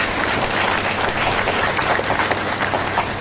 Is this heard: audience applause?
yes